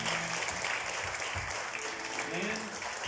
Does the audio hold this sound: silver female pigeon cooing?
no